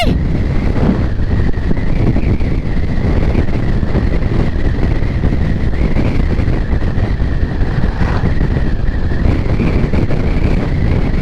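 Strong, steady wind roars and buffets the microphone on a moving motorcycle without a break, with a constant low rumble underneath and no voices.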